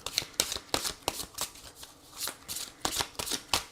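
Tarot cards shuffled by hand in a series of crisp riffling bursts, close and fairly quiet, with short pauses between them and no talking.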